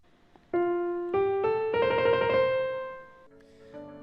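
A sung vocal line rises through a few held notes, one note rapidly wavering back and forth in a trill ornament, then settles lower and fades.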